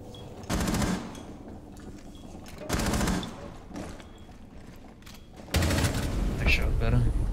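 Gunfire in Rainbow Six Siege, three separate loud bursts of rapid automatic shots, each about half a second, spaced apart by quieter stretches of indoor game ambience.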